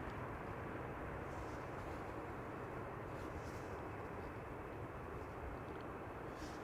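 A United Airlines airliner taxis toward the runway threshold at Amsterdam Schiphol, its steady broadband engine roar and low rumble continuous and unbroken, moderately loud and alone throughout.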